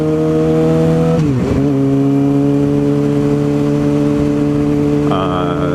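A track-focused sport motorcycle engine revs loudly and close, holding a steady high drone, dipping briefly as revs drop and climbing again toward the end.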